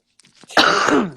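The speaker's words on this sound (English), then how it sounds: "I have to clear my throat" A single close, rough throat clearing preceded by faint small breaths, loud and harsh for about half a second.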